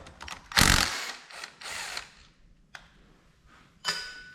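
A ratchet works on the front brake bolts of a 2018 Honda CB500X motorcycle, with bursts of quick clicking, a loud rasping pass near the start, then quieter intermittent clicks and a final short burst, close by.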